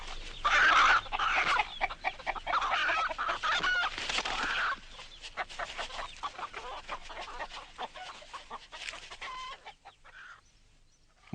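Free-range hens and cocks cluck and chatter in a farmyard, a busy overlapping flock that is loud at first, then thins to scattered nearby clucks and calls that fade toward the end.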